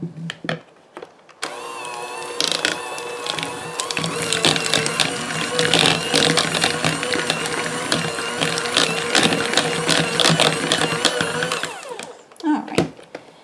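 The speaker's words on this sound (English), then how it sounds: "I am going to just use the mixer and break that up a little." Electric mixer breaking up cream cheese for a danish, a loud, steady whirring drone with a rattling edge that runs for about ten seconds and then stops.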